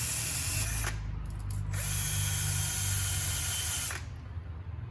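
A power tool works over the chassis of a John Deere mower during cleanup before sanding and painting, a loud steady whirring grind that runs nearly continuously with a few brief dips, close by and with no talk.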